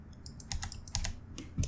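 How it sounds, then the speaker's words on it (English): Keys tap on a computer keyboard during Inkscape line-art editing: about seven or eight light, crisp clicks in an uneven run, close and quiet with no talk. "press delete on the keyboard to get rid of them"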